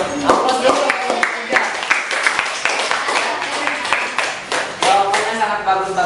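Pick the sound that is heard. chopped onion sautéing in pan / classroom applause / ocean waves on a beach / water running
classroom applause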